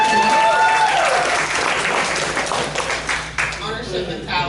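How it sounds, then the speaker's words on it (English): An audience at a company staff event breaks into dense, loud applause for a trainee, a sustained wash of many hands clapping that tapers slightly toward the end, with a voice briefly audible. "so a round of applause for her"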